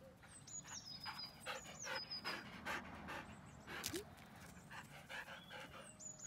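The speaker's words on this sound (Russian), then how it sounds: "Сумасшедшая какая-то собака." A dog pants quickly and repeatedly up close, with rhythmic breathy huffs and soft whimpering, while birds chirp faintly in the background.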